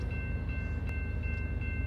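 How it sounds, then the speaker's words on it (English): A BNSF freight train approaching, a steady low rumble of engine and rolling cars with a faint high tone held above it, close and continuous. "We have a BNSF train approaching us."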